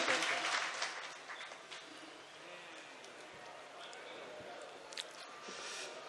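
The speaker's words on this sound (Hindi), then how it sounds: "आपको भरपूर तालियों से एक बार दोबारा नवाज के मुझे दिखा दीजिएगा" Audience applause at a 2016 mushaira poetry recital in Bareilly, a dense crowd clapping that starts loud and then settles into a steady, softer patter for several seconds, with no one speaking over it.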